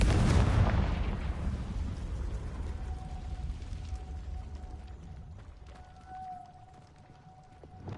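A Confringo spell explosion in the video game Hogwarts Legacy bursts loud and close at the start, its low rumble slowly decaying over several seconds beneath a faint steady tone.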